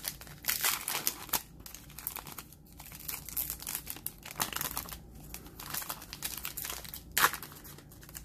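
Crinkling and tearing of a 2020 Select Football trading card pack wrapper, with close, loud bursts of plastic foil crackling and ripping that come in irregular handfuls across several seconds, with no voices.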